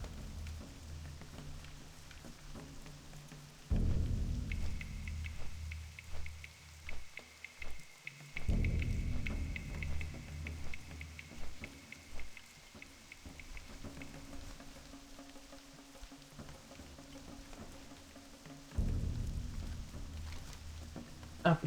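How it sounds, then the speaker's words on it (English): Steady rain pattering over a low rumble in the Feralas zone of World of Warcraft, with a few heavy booming rolls of thunder breaking in loudly at intervals; no voices. "Arrived in Feralas, and it's raining."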